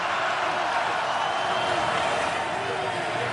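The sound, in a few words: stadium crowd cheering at NFL game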